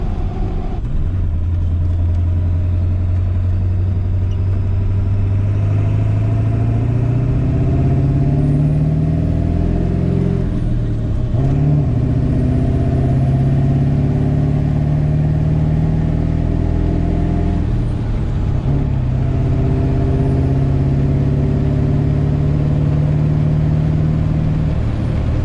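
A 7.3 diesel pickup truck fitted with an all-aluminum intercooler makes a full-throttle pull. The engine drones loudly and climbs in pitch in repeated surges, with no voices.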